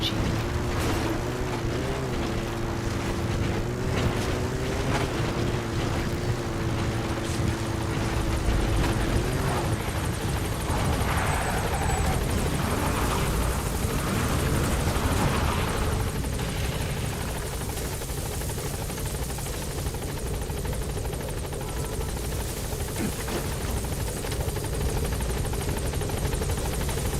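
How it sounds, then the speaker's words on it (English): A support helicopter arrives in the video game The Phantom Pain, its steady rotor drone sitting loud and close beneath game music and ambience, with a voice speaking over it. "Support helicopter has arrived."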